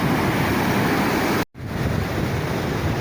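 Rough sea waves wash past a small fishing boat in a steady, dense roar, with wind buffeting the microphone. The sound cuts out for a moment in the middle.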